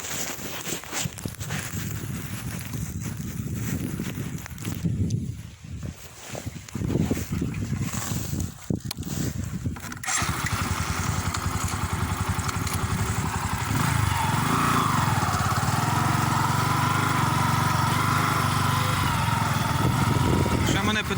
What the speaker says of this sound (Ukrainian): Заводимо, їдемо додому.